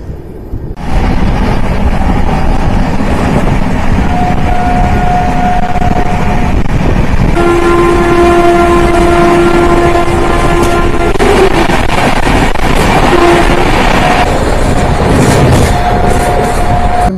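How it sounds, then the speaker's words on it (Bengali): A passenger train runs loudly into Ghatshila station, with steady rumbling and rattling under heavy wind buffeting and sustained tonal squeals or horn-like notes that rise and fade throughout. "ঘাটশিলা স্টেশনে কিন্তু ট্রেনটা ঢুকছে"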